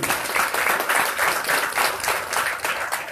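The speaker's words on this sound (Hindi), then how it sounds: "तीसरी बार ताली जरूर बजाइए श्याम निकुंज के लिए" A crowd at a Hindu religious discourse applauds steadily, dense clapping filling the whole stretch at a constant loud level.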